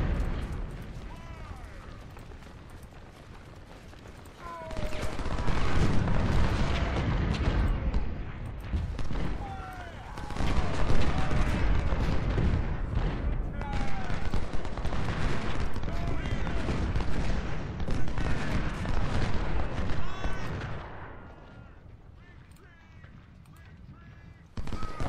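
Artillery and musket fire from a Civil War battle at Cedar Mountain in the Ultimate General: Civil War strategy game, a dense, continuous roar of volleys and booms that swells and ebbs over time, with speech heard faintly underneath.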